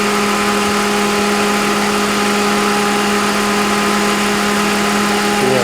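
Holden Commodore engine idling with its electric radiator fans running after new radiators and coolant were fitted: a loud, continuous steady hum with a pronounced tonal whir, unchanging throughout with no talking.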